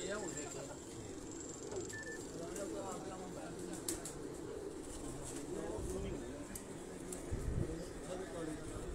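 Pigeons on a rooftop loft coo softly and steadily, close by, while someone talks over them throughout.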